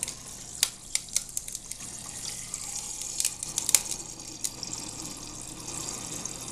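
Water running from a kitchen faucet in a house in Valrico, Florida: a steady, fairly soft hiss of flowing water with scattered small splashy clicks, and no voices.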